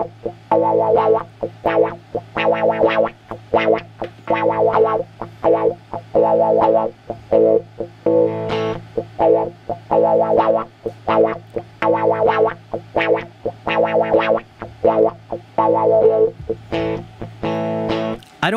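A distorted electric guitar loop runs through an Axe-Fx III with LFO and expression-pedal modulation, repeating rhythmic chopped phrases with a steady low drone and shifting effected, chorus-like tone throughout.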